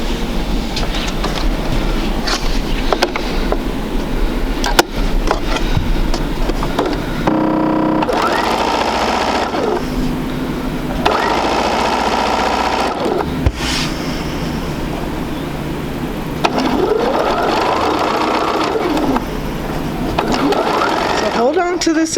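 A sewing machine stitches quilt pieces for a sampler quilt, running loud and steady with a dense mechanical whir, pausing briefly and then resuming, while a person talks over it.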